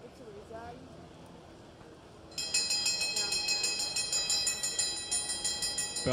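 At a masters track cycling world championship race, a bell starts ringing partway through and keeps clanging loud and rapid in a steady, regular rhythm over crowd noise. A commentator is talking.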